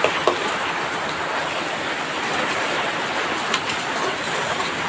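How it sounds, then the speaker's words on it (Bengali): Heavy rain hisses in a dense, steady wash close by, with a few sharper drips or knocks, loud and unbroken with no voices. "বৃষ্টির শব্দে কোনো কিছু শোনা যাচ্ছে না, প্রচুর বৃষ্টি হচ্ছে আমাদের এখানে"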